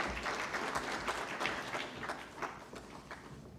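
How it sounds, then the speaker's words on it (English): Sustained audience applause at a national technical textiles conference, a dense steady wash of many hands clapping throughout at moderate level. "Loud applause, please. More louder."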